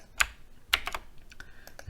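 Computer keyboard typed on while entering Python code, a few sparse, close keystroke clicks in small irregular bursts against a quiet background.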